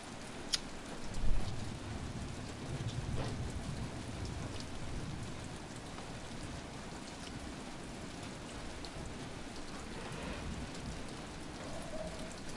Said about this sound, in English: Enjoying just listening to the rain.